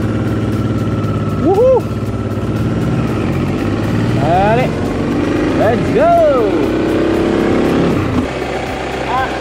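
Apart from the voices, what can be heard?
motorcycle engine idling then accelerating away from toll gate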